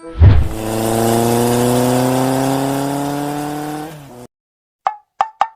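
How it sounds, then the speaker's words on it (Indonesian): An engine sound in the Sakura School Simulator game, a motorcycle arriving: a steady droning motor with rising pitch held for about four seconds, then cutting off, followed by a few short sharp pops in near silence. "Tunggu, itu motor siapa dah?"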